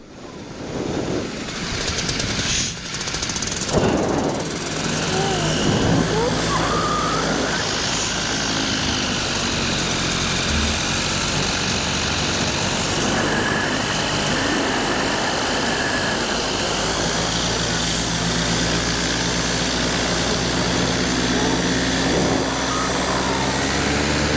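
A light aircraft climbs out downwind after takeoff, its engine droning loud, close and steady beneath heavy rushing wind noise throughout.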